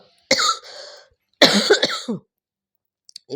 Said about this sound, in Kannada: ಸಾರಿಪ್ಪ, ಇದು ಕೆಮ್ಮು.